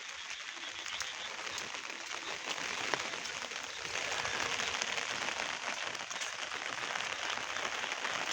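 Light rain falls steadily outdoors over fields, ponds and canals, making a continuous, even hiss from start to finish with no voices.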